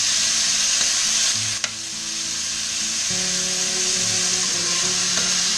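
Beef browning in a pan on high heat, a loud, steady sizzle and crackle with a sharp knock of a utensil and some stirring scrapes, with no talking.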